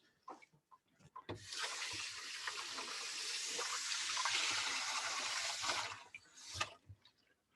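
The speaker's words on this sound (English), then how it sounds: "I'm going to rinse my hands again." Water from a kitchen sink tap runs steadily for several seconds as hands are rinsed, with a few clinks and handling sounds before and after the flow.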